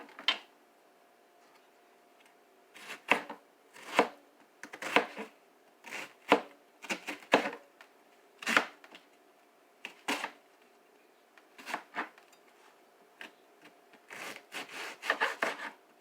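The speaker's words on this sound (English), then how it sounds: "going to mince the onion up." A kitchen knife mincing a leftover onion on a cutting board: quiet, irregular chops that come singly or in short clusters, separated by pauses, over faint background hum.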